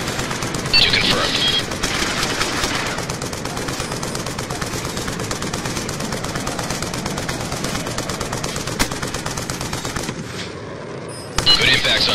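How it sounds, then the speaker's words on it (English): Sustained heavy automatic gunfire from a VTOL warship in Call of Duty Black Ops 2 multiplayer, with a continuous rattling barrage running nearly the whole time, broken by a short lull before resuming. "VTOL warship inbound"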